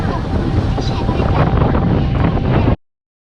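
Strong wind noise buffeting the microphone on the open top deck of a river tour boat on the Chao Phraya in Bangkok, a loud continuous rushing roar that cuts off abruptly.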